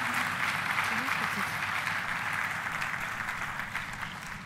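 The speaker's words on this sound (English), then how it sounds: "Another round of applause for Ms. Ijoma Uju." Audience applause at a business event on owning and growing a business, a steady wash of clapping filling the room throughout, with some voices mixed underneath.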